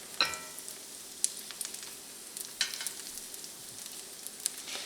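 Corn fritters fry in a pan, giving a steady soft sizzle with scattered crisp pops and crackles. Frying runs alone at a moderate level.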